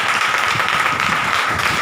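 A church congregation claps together during a pastor's sermon, a dense, steady wash of many hands sustained close and loud throughout.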